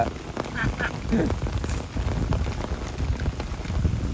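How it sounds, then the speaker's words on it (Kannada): Heavy rain pours steadily onto a flooded rice paddy during planting, a dense continuous hiss with scattered drop splashes, loud and close throughout, with faint voices briefly in the background. "ಇಷ್ಟು ಮಳೆಗ್ನ ನೋಡ್ತಿರ್ಬೋದು ನೀವು. ಮಸ್ತ್ ಮಳೆ ಬರಕುಂತದ."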